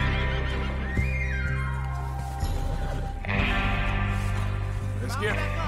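A horse in Red Dead Redemption 2 gives a rising-then-falling whinny over a bed of game music and ambient noise, followed later by a second brighter neigh near the end.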